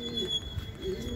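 Racing pigeons give low, soft coos in a brief burst close by, with a faint background hum.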